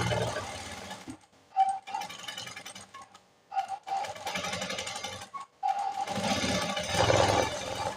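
Sewing machine stitching piping onto fabric, running in several steady whirring bursts separated by short stops and clicks, close and fairly loud with no voices.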